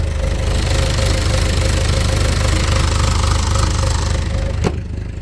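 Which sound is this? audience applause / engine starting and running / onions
engine starting and running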